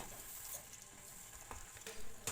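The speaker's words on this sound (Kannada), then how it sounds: "ಸಣ್ಣ ಉರಿ ಒಳಗೆ ಲೋ ಫ್ಲೇಮ್ ಒಳಗೆ ಮಸ್ತಾಗ ಕುದಿಸ್ಬೇಕು" Coconut oil with hibiscus, aloe vera, curry leaves and bhringraj simmers in a pan on a low flame, giving a quiet, steady sizzle with faint crackles throughout.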